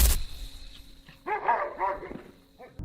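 A dog barks repeatedly on security camera footage in a yard, a few clear mid-distance barks over a faint electronic hum.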